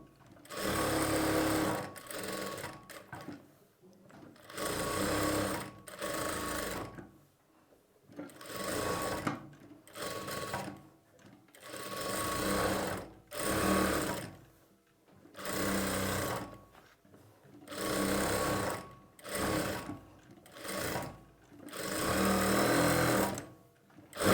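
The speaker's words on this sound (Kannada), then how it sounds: "ಟು ಇನ್ ಒನ್ ಬ್ಲೌಸಲ್ಲೂ ನೀವು ಅದೇ ರೀತಿಯೇ ಸ್ಟಿಚಿಂಗ್ ಮಾಡ್ಕೊಳ್ಬೇಕು" Sewing machine stitching a blouse lining to the main fabric, running in repeated bursts of rapid mechanical whirring separated by short pauses, close and clear with no talk.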